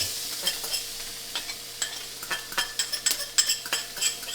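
Garlic being spooned into hot oil in a pan for chicken parmesan gives a soft sizzle under a series of sharp spoon scrapes and taps against the pan, close and quiet.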